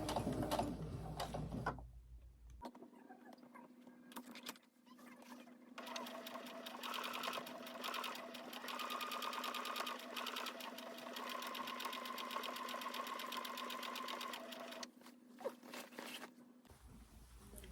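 A sewing machine runs steadily for about fourteen seconds, stitching all the way around a dress hem in contrasting thread, with a brief pause near the middle and no talking.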